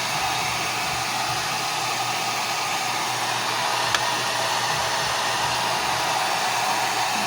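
A hair blow-dryer runs steadily on a pet's thick fur, a constant loud airy whoosh throughout with one brief tick partway in, no voices.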